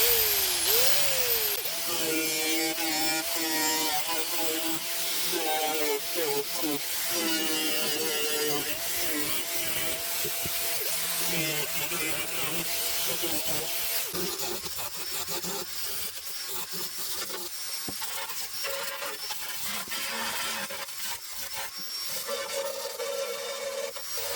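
Trimming and cutting a Chevy S10 pickup truck heater box with hand tools, a steady rasping, sawing scrape running continuously and close for the whole stretch, with no talk.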